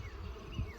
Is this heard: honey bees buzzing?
yes